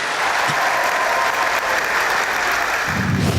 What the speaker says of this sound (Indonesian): jadi kita berikan aplaus untuk Ibu Guru yang luar biasa ya